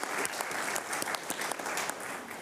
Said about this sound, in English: I think that deserves like a huge round of applause.